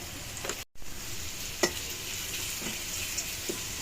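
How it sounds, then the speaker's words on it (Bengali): Cumin powder dropped into hot oil in a home kitchen pan after garlic paste, giving a steady close sizzle with occasional stirring scrapes and small clinks, no talking. "জিরে গুঁড়ো দিয়ে দিচ্ছি।"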